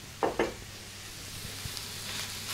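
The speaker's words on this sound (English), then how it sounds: "In goes the hamburger." Hamburger meat dropped into a skillet for chili pie, with two soft thuds near the start followed by a faint, steady sizzle and a few light scraping taps.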